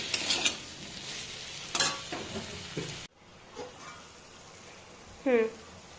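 Ginger and garlic paste sautéed with potatoes in a pan makes a soft, uneven sizzle with a few scrapes of stirring that stop short at three seconds. After that only faint, sparse sounds remain, along with a brief voice.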